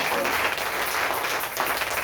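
A church congregation applauds, a steady dense wash of clapping that holds evenly at moderate loudness throughout with no pause.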